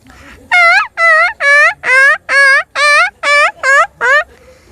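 A person's voice imitates an injured dog whimpering: about nine sharp, high-pitched yelps in a quick, even series, loud and close, with no other talk.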